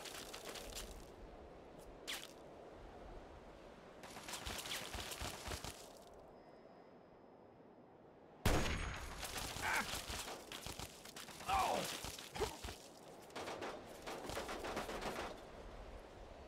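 Gunfire rattles in the Fallout 3 Operation Anchorage simulation, set in snowy terrain. It is faint and distant: separate bursts of shots come with pauses between them, then denser volleys toward the end.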